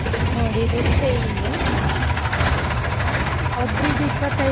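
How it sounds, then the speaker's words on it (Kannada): The engine of an amusement park ride train idles steadily at a flower show, a continuous close rumble with a mechanical knock. Voices talk over it throughout. "ನೋಡಿ, ಇದು ಟ್ರೈನ್."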